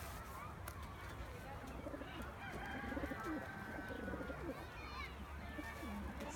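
Tumbler pigeons coo softly in a loft, their low murmuring calls running throughout. A steady background hum and faint ambient noise sit underneath.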